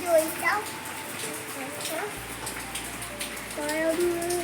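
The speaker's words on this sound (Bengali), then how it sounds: "ঝিরি ঝিরি করে বৃষ্টি পড়ছে" Light rain patters steadily outside under dark monsoon clouds, wetting a car parked in the open; the soft hiss runs throughout with brief faint voice-like tones over it.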